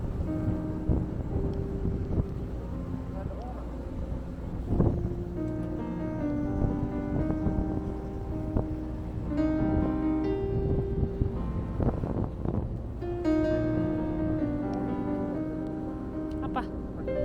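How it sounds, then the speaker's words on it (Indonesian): Strong wind buffeting a microphone atop Snow King Mountain in Jackson Hole, Wyoming, in winter, a steady loud rumble throughout, with people talking over it. "Anginnya kencang banget."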